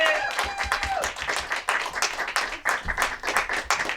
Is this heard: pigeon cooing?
no